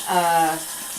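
Tap water runs briefly over a makeup brush being rinsed in a sink, a close hiss with a short tonal ring that fades within a second.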